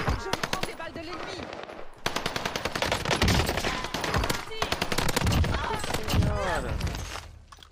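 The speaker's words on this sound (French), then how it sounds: "Y a une team qui tire en avant aussi" Gunfire in the video game Warzone, loud sustained bursts of rapid automatic fire with brief pauses, crackling nearly nonstop, while players talk over it.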